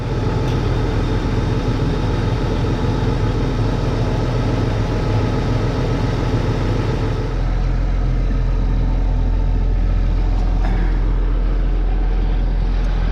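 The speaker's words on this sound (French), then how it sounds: "en attendant que le tracteur échauffe un peu" A farm tractor engine idling while it warms up, a loud, steady close-up rumble that drops to a deeper, smoother idle about halfway through, with no talking.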